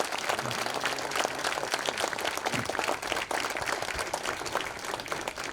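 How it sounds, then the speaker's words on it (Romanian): An audience applauds a bagpipe player at a traditional Romanian folk music ensemble performance, a steady, dense clapping that fills the whole stretch without a break. "Încă o dată îl aplaudăm pe Alex Cozaciuc, colegul nostru, pentru efortul făcut și pentru măestria dobândită."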